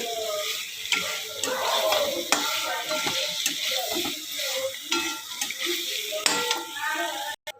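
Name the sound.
fried potatoes stirred and sautéed with spices in a pan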